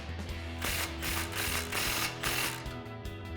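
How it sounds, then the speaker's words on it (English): A ratchet with a 16mm socket tightens an exhaust clamp on a RAM 1500, giving close, quick bursts of clicking pawl strokes in a repeating rhythm, with no one talking. "we'll snug that clamp up with our 16mm socket"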